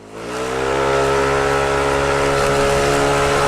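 Motorcycle engine climbing uphill after a clutch (panggilid) refresh, a steady loud drone rising slightly in pitch as it accelerates and then holding strong, close and continuous without talk.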